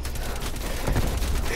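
An AK rifle blazing away in a video-game search-and-destroy match, a dense continuous stream of rapid gunfire with steady loudness, heard up close.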